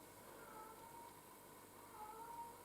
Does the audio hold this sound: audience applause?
no